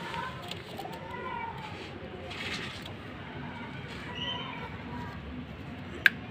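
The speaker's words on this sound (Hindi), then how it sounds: "हाजी साहब का बहुत ही एक नामवर कबूतर है" Soft, low coos from a prized pigeon rise and fall quietly in the background, with a sharp click near the end.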